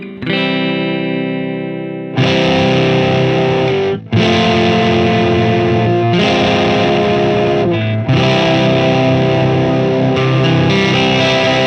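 Distorted electric guitar plays MMT cadence chords, thick and saturated, changing chords about every two seconds and sustaining loudly between changes, with no talking.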